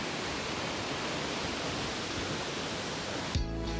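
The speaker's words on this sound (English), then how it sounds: "It's the tallest of the Havasupai Reservation waterfalls." Mooney Falls, the tallest waterfall on the Havasupai Reservation, roars as a loud, steady, broadband rush of falling water that continues unbroken before cutting off abruptly near the end.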